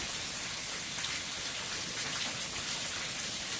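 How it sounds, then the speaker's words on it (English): Steady rain falls on a summer day, a dense even hiss with soft drop patter throughout, no voices. "Enjoying the rain."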